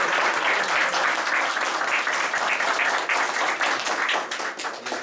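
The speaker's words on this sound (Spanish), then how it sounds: "quiero que les brinden un aplauso" Enthusiastic audience applause closing a public-policy talk, close dense clapping at a strong, steady level, tapering slightly at the very end.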